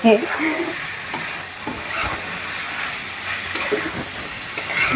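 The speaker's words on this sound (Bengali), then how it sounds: "এদিকে আমার আলু ভাজিটা প্রায় হওয়ার দিকে" Potatoes for aloo bhaji sizzle and fry steadily in a pan while being stirred, with a continuous close hiss and occasional scraping clanks throughout.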